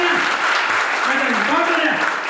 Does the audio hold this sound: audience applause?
yes